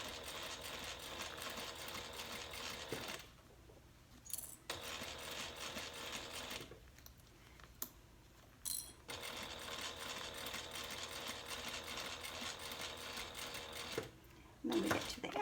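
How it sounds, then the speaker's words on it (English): A sewing machine stitches a handbag pocket onto a side panel, running in long steady whirring bursts broken by a few short pauses, close and continuous. "I'm going to sew this side, and we'll make sure that everything is lined up nicely"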